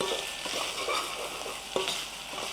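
Green chillies fry with salt in a pan, making a close, continuous sizzle with scraping stir strokes and soft clicks, and no voice over it.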